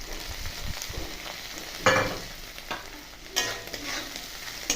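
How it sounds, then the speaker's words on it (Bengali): Spices with salt, turmeric and red chilli powder are stir-fried in oil for aloo chop. Soft sizzling runs throughout, broken by a few sharp scraping stirs of the spoon against the pan. "ভালো করে কষিয়ে নেব মশলাটা।"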